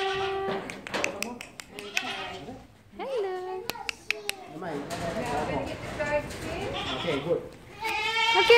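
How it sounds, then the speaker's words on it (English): Goats bleat repeatedly on a farm, several calls overlapping nearby as they come in, mixed with children's voices, a brief greeting and scattered claps. "the goats are coming in"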